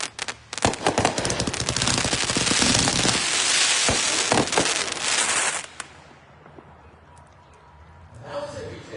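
A Hippie Chick 172-shot sprinkler cake fires a rapid dense barrage of crackling pops and bursts for about six seconds, then fades to quiet with a brief late flurry, with a voice briefly heard.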